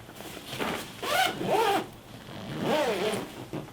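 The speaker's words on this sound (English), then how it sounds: "I take my packing bags and I zip the zipper" A zipper on a fabric packing cube is pulled in three quick strokes, each a rasping, rising zip at close range, with short pauses between pulls.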